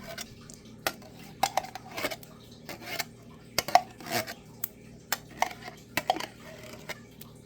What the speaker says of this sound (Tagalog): Lahat na pinakita ko ito guys, halo-haloin lang yan.